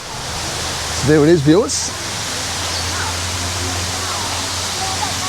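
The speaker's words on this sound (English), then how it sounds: "There's a bit of waterfall there." A small waterfall in Kanchanaburi with only a light flow of water gives off a steady, even rush that runs the whole time, briefly overlaid by someone speaking near the start.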